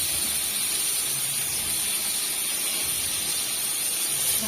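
Pangas and tilapia fish frying together in hot oil in a pan: a steady, loud sizzling hiss holds without break throughout.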